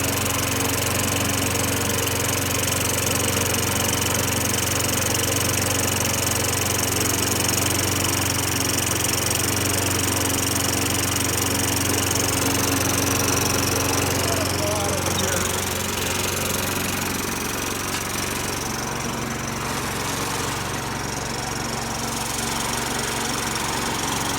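A Craftsman push lawn mower with a Tecumseh 5.5 engine runs steadily, a loud, close buzzing drone that continues throughout, easing slightly in pitch toward the end, likely blowing oil out of the muffler.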